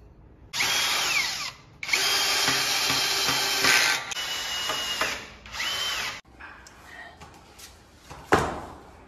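A power drill drives screws into a partition frame being assembled for a bathroom enclosure, whining in long sustained loud bursts with brief pauses, close by, followed by softer clatter and a sharp knock.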